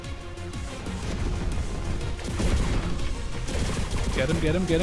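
Chaotic battlefield noise in Enlisted, with rocket launcher blasts among continuous gunfire and explosions, loud and dense, with a voice speaking briefly.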